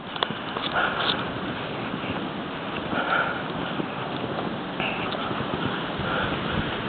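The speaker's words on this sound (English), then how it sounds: "Some more winds it seems like the winds are changing over from this direction now" Blizzard winds blow steadily in a continuous rushing roar with buffeting gusts against the microphone, outdoors in a winter storm.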